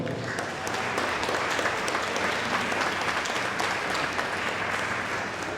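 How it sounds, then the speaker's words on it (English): Loud, dense audience applause at a ukulele summit concert, sustained and steady throughout with sharp clapping texture and no talk over it. "let's big up a big round of applause for everybody involved today"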